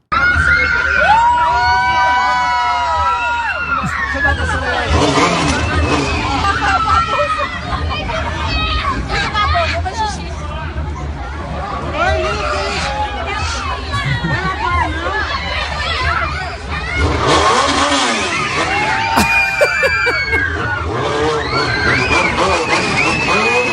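A crowd of excited children shouts, cheers and screams around a man in an Iron Man suit riding a motorcycle, a loud, dense babble of voices throughout, with the motorcycle hard to pick out beneath it.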